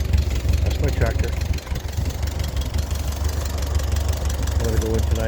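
A 1948 Ford 8N tractor engine idles with a steady, low, knocking rumble close by, continuous throughout, with faint speech-like fragments under it.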